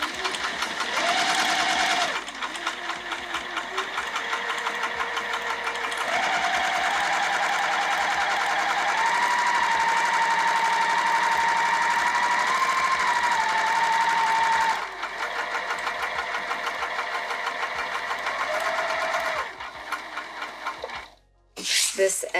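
A home sewing machine stitches the curves of a Hendrix bag in long, steady whirring runs, pausing briefly between them as the fabric is pivoted, close and loud.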